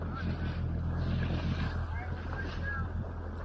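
Yamaha GP1800R personal watercraft (2019) riding on the ocean, a steady loud engine drone with wind buffeting and water rush, with voices in the background.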